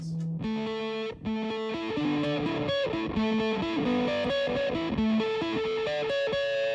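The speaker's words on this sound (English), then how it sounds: "this is a fuzz, which is a bit more down the lines of distortion." Ukulele strummed and picked through a fuzz distortion pedal, playing rock, a buzzy, saturated tone with busy chords and note runs playing continuously, close and loud.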